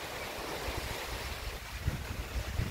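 Calm water lapping gently, a steady soft wash with low, irregular thumps near the microphone and a little wind noise, continuous with no talking.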